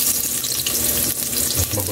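Ginger sautéing in hot oil for beef nilaga gives a steady, close sizzle and crackle that holds evenly throughout, with a slight shift in tone near the end.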